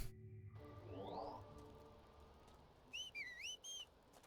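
Whistle blown by a character in the Two Worlds video game: a short run of rising, swooping tonal whistle notes, three or four bursts in quick succession, heard over a low game background hum.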